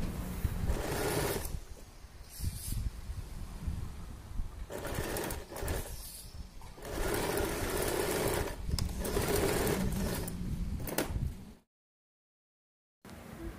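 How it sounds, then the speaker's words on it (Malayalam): A sewing machine stitching a kurti neck runs in steady whirring bursts close by, pausing briefly between seams, with a short silent gap near the end. "അടുത്തതും നമുക്ക് കുറച്ചേറെ തുമ്പ് നീട്ടിയിട്ടിട്ട് കാലിഞ്ച് വീതിയിൽ തയ്ച്ചെടുക്കാം."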